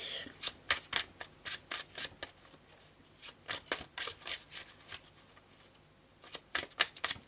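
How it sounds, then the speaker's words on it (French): Tarot cards are shuffled by hand up close, a rapid series of crisp riffling and slapping bursts with short gaps between runs. "je vais prendre quand même quelques cartes de tarot pour les poissons"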